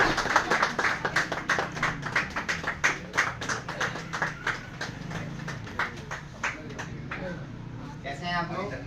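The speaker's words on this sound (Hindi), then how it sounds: "बहुत जोरदार तालियां।" An audience at a speech event in a training centre gives distinct, rhythmic claps, individual hand strikes clearly separated and fairly close, slowing and thinning before a voice begins speaking at the very end.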